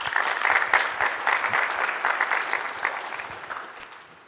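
Applause from a conference audience at AppSecUSA 2017 welcoming a speaker to the stage, a steady wash of many hands clapping that fades gradually over a few seconds, heard alone without talk.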